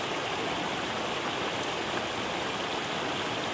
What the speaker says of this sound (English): Can't really see the flame, but you can hear it.